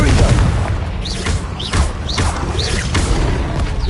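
Confringo explosive spells cast in Hogwarts Legacy: a rapid series of loud, booming blasts, one about every half second, each with a crackling burst and bright zipping trail, close and dominant.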